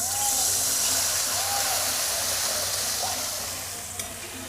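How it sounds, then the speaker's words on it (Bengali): Water splashes into a pan of frying cumin and coriander powder for a banana curry, setting off a loud, steady broadband sizzle and hiss that slowly fades over several seconds. "এবার আমি জল দিয়ে দিচ্ছি।"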